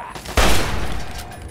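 A burst of automated turret fire from Fallout 3 rattles out, loud and close for about a second, then trails into quieter game ambience.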